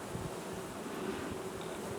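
A dense, steady buzz of many honeybees crowded at a South Carolina hive while they feed on sugar, close and continuous with no voices.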